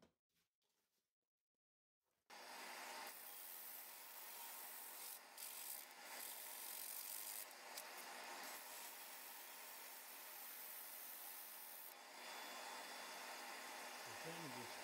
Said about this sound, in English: So sanding this just with the 80 grit pad